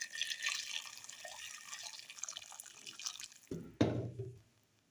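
Hot water poured into a pot of chicken stew being made for kibsa, a steady splashing pour running for several seconds, then a brief louder clunk and lower gurgle before it stops.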